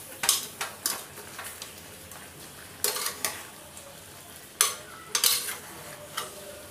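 Chicken stirred and sautéed in a pan, with repeated sharp scrapes and clinks of a utensil against the pan over a soft background sizzle, in irregular bursts.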